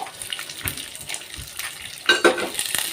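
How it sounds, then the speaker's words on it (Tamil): Onions frying in a pan while being stirred, heard as a soft sizzle with scraping strokes and a brighter burst of crackle near the end. "நல்லா கிளறி எடுத்துக்கோங்க ஃப்ரெண்ட்ஸ் நல்லா வெங்காயம் வணங்க வரைக்கும் நல்லா வணக்கி எடுங்க"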